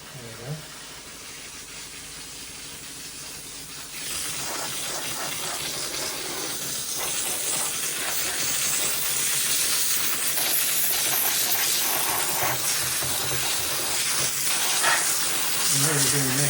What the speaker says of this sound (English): It starts sort of steaming straight away, but water comes out first.